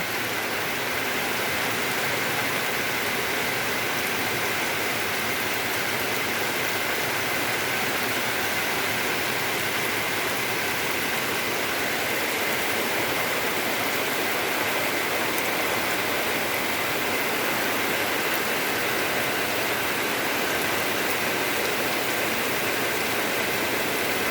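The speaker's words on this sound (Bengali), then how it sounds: "ঝিমঝিম বৃষ্টি।" A steady drizzle of rain falls continuously, producing an even, soft hiss throughout with no talking.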